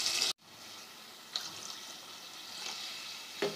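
Water poured into a pot of roasted gram flour batter for besan gatte curry, a steady close hiss and trickle running for several seconds after a brief knock, with faint splashes and no voices.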